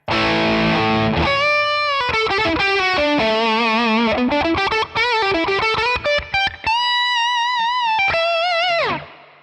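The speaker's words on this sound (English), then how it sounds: "So here's the Classic Reverb." Electric guitar played through a Two Rock Classic Reverb amp model on a Tonex, driven lead tone with a sustained distorted melodic line and bends, loud and alone.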